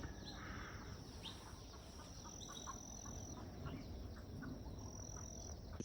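A chicken clucks faintly in the distance outdoors at a shooting range, with scattered, soft calls over a steady background hum.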